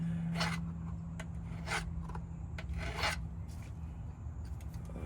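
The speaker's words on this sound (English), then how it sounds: "So there is a little bit of burr on this side, so just file them down a little bit." A hand file rasps in several short strokes across a metal pin to remove burrs, near and moderately loud, from work on a 2003 Chevy Silverado LB7 Duramax.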